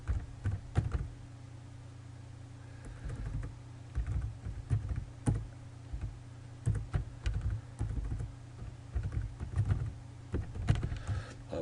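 Fingers tap a computer keyboard in short irregular bursts of close clicks separated by pauses, over a quiet room hum.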